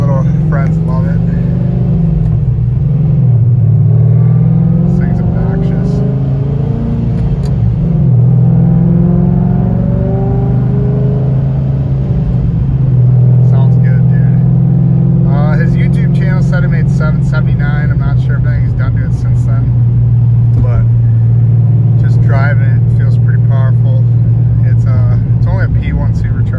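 A supercharged wide body Ford Mustang driving, its low engine rumble and revving swells running steadily throughout while people talk over it inside the car.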